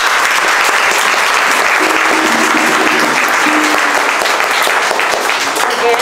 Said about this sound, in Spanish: por eso es merecido que nos invitemos un fuerte aplauso.